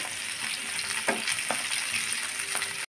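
Pieces of fish fry in hot oil in a pan, a dense continuous sizzle with a few sharp pops and spatters, close and steady, then cutting off abruptly at the end.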